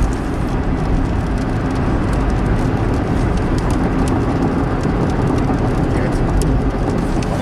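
Nissan Xterra engine pulling at half throttle on a road test, a steady, loud broadband drone of engine and road noise running the whole way through.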